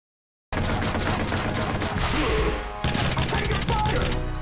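Gunfire in the Watch Dogs video game: dense, rapid automatic bursts, loud and continuous, with a short break before another volley.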